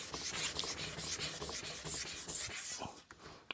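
A katana blade rubbed steadily back and forth on a King Deluxe whetstone, a dense rasping scrape repeating in quick strokes, close and fairly loud, pausing briefly near the end.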